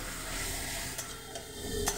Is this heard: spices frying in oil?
yes